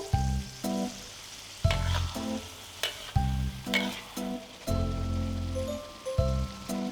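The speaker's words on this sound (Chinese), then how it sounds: "倒入去皮的西红柿，翻炒成酱" Peeled tomatoes are stir-fried into a sauce after scallions and garlic sizzle in hot oil, a close, crackling sizzle broken by repeated scrapes and stirring clatters from the pan.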